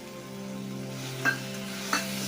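Ghee added to a melted jaggery modak filling, sizzling softly in the pan under a faint steady hum, with two brief scraping stirs of a spoon near the end.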